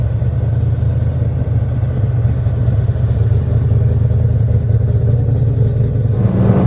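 A 1972 De Tomaso Pantera's engine drones loud and low while driving, a steady deep rumble from inside the car that lifts slightly in pitch near the end.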